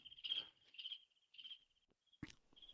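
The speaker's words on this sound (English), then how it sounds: "get that sound effect with the crickets" Crickets chirp as a comedic sound effect, filling an awkward silence in short pulsed bursts of high trilling, with a sharp knock cutting in near the end before the chirps resume.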